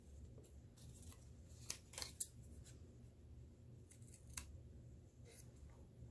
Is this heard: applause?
no